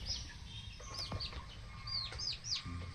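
Free-range village chickens in a small home coop cluck and call near at hand, mixed with high chirping birdsong and a steady low background murmur throughout.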